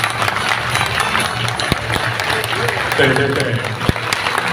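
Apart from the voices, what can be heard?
audience applause for artists at an exhibition opening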